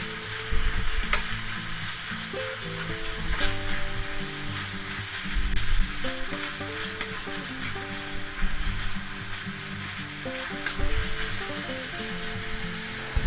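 Meat chunks sizzle steadily in a pan, close and continuous, with scraping stirs recurring every few seconds over the frying hiss.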